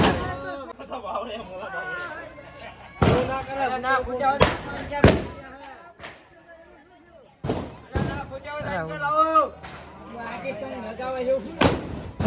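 Several sharp Diwali firecracker bangs burst at irregular intervals, loud and close, while people talk and shout between the pops.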